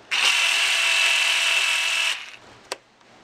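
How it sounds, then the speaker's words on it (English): A power drill whines loudly and steadily for about two seconds, boring into the caster block of a Stampede RC truck, then cuts off, followed by a brief sharp click. "I'm gonna go ahead and drill it into the caster block just until it pokes out."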